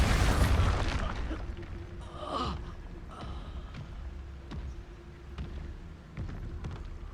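A booming Expulso spell blast in Hogwarts Legacy, a loud explosion at the start that rumbles and fades, followed by scattered smaller impacts and debris at moderate level.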